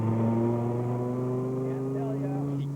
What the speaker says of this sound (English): here's Jerry Churchill in that sexy Dodge Viper, enjoying that 500 horsepower